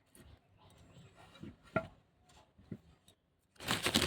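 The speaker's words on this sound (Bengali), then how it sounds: "ফল কাটছি" Fruit being cut with a knife while offerings are prepared for a home puja: a few sharp, separate chops spaced out over soft background noise, then a louder rustling, scraping burst at the end.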